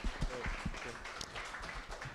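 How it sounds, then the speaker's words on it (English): Conference audience at Art Center Nabi's East meets East event gives a brief burst of applause, a dense patter of clapping heard alone for a couple of seconds. "Round of applause, please."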